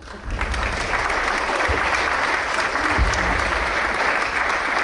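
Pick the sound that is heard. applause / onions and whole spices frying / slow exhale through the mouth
applause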